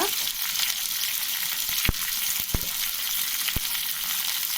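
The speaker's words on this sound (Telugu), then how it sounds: "ఇందులోనే నేను ఆనియన్స్ యాడ్ చేసుకుంటున్నానండి" Onions are frying in a pan for tomato onion chutney, a loud steady hiss of hot oil close up, broken by a few sharp knocks and scrapes of a utensil, with no voices.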